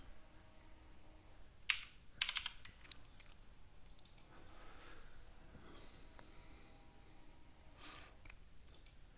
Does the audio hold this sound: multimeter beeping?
no